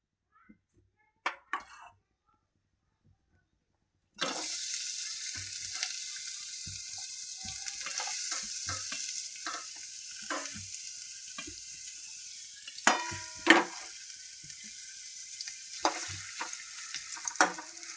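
Onion fries in oil in a pan: after a few seconds of near silence a steady, crackling sizzle starts and continues, with occasional louder pops and stirring clatters.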